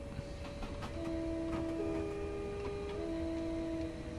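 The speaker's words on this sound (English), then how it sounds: "that horn doesn't quite melodically fit for me" Horn of a Pendolino fast express on the West Coast Main Line in Train Simulator Classic: a sustained two-tone blast sounds steadily over the rumble of the moving train for several seconds, loud and close.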